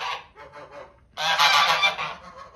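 A grey goose honks nearby, a few shorter calls followed by one long, loud, harsh honk, with no talk.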